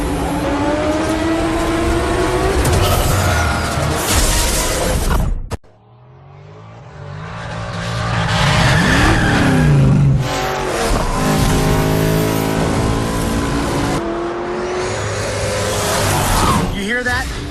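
A muscle car engine in the racing game Need for Speed Shift 2: Unleashed roars and revs loudly, with tire squeal, while a voice talks over it; the sound briefly drops out partway through.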